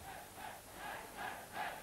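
Faint, distant crowd at the Aalsmeer ten-dance championship cheering the dancers, a hollow roar that swells in three or four waves, with no clear speech.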